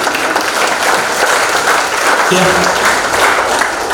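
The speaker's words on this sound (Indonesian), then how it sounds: "Tepuk tangan" Audience applause at an Indonesian leadership training seminar in Bekasi, a dense, steady wash of clapping that fills the whole stretch, with a speaker's voice briefly heard over it.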